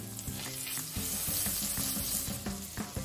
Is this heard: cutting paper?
no